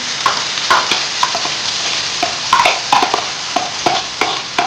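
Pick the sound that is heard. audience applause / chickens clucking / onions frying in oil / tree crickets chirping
onions frying in oil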